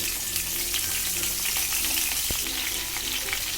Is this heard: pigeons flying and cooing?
no